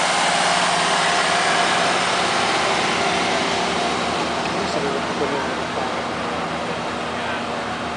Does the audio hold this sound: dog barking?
no